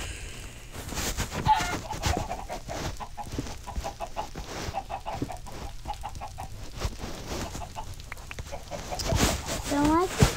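Chicken clucking in the Minecraft video game, short repeated clucks in a steady run under ongoing game sounds, moderately loud.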